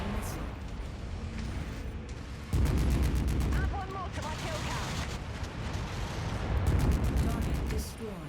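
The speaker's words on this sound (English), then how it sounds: "Incoming missile" Missile impacts on a mech in the video game MechWarrior 5: heavy booming blasts and rumbling explosions in several waves, with a voice talking now and then.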